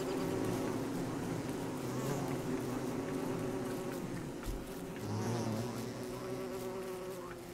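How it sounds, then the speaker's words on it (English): Killer bees in the survival video game Don't Starve buzz continuously and loudly throughout, a dense droning swarm with slight swells in intensity and no talk over it. "Why are there killer bees out?"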